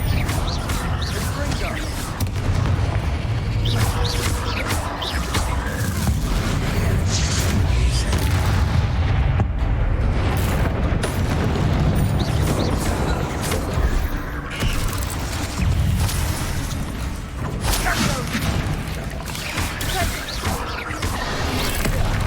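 Confringo blasting spells go off in Hogwarts Legacy as loud, continuous booming explosions and crashes of combat, while a player talks over the game sound throughout.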